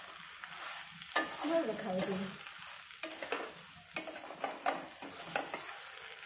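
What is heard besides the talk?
stirring bhindi do pyaza in a frying pan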